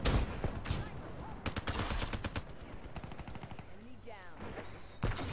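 Black Ops 3 gunfire, rapid automatic shots crackling in quick bursts at moderate distance, with a voice talking over the shooting.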